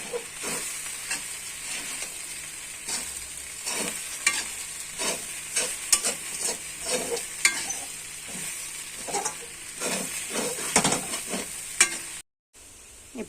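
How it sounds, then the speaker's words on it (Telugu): Borugula upma made from puffed rice is stirred in a pan, a rapid run of dry scraping and rustling strokes over a light sizzle, close and alone, ending in a brief cut. "చక్కగా కలబెట్టుకుందాము."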